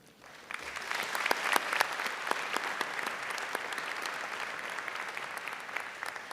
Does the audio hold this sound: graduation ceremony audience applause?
yes